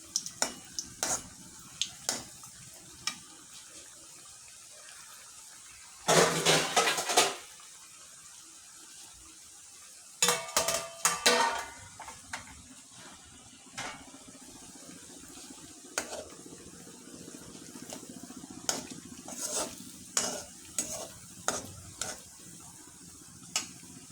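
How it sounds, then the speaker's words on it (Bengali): Palm fruit fritters fry gently in oil over low heat with a soft, faint sizzle, interrupted by occasional louder bursts of bubbling and clinks of a utensil against the pan. "আমার বড়াগুলো বেশ লাল হয়ে আসছে, এবার উঠিয়ে ফেলবো।"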